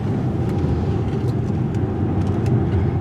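A 2021 Acura TLX SH-AWD Advance with all-wheel drive corners in sport mode, its cabin filled with a steady, loud low engine and road rumble that holds constant throughout.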